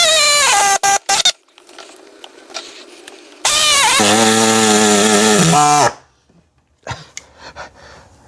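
A power saw cuts out a PCV stub on a BMW N54 engine in an E60. It screams at high pitch, stops, then runs again with a falling whine before cutting off, followed by quieter handling noises.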